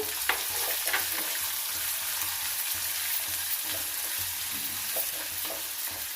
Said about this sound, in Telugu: ఇప్పుడు వేస్తానండి ఉల్లిగడ్డలు